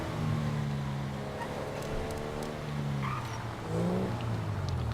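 A Porsche 911 Turbo S rated at 540 horsepower in GTA 5 drones with a steady engine tone, pitch shifting up and down as it accelerates and shifts through gears, loud and continuous with no talk.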